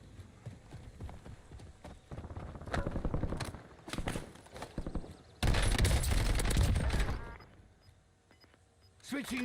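An AN-94 rifle fires in Black Ops, loud bursts of rapid gunfire crackling in irregular clusters, with one long dense burst near the middle amid other game noise.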